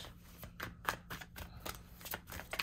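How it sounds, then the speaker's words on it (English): Tarot cards being drawn and shuffled at close range, a quick run of crisp papery riffles and flicks with no voices. "Get a few more cards out."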